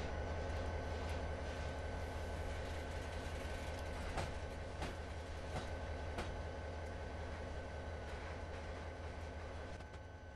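A freight train in the Train Sim 2016 game runs on the Sherman Hill route, giving a steady, loud rolling rumble with a constant engine drone and a few sharp clanks, heard alone and without speech.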